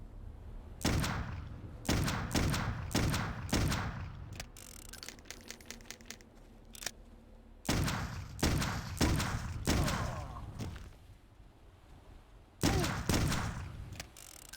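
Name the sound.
gunshots in video game Clive Barker's Undying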